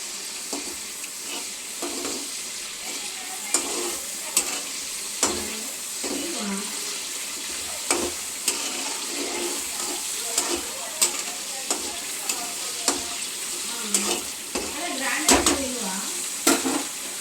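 Food fries in a pan with a steady sizzle while a utensil stirs it, knocking against the pan in repeated irregular scrapes and taps, close and continuous.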